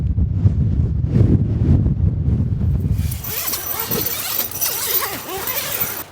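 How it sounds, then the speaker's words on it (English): Strong wind gusts roar during a snow blizzard at a winter campsite, with a low, heavy rumble giving way to hissing, buffeting gusts close to the microphone. "More wind's coming in."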